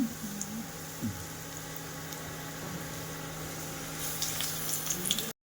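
Potato-stuffed flat bean chops fry in hot oil, giving a steady, close bubbling sizzle with a few brighter crackles near the end.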